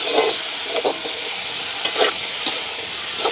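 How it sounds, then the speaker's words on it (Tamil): Chillies and onions fry in a pan under steady loud sizzling, broken by repeated scraping stirs of a spoon at an uneven rhythm, close up. "இப்படியே நல்ல வடிவாக கலந்து விடுவோம்"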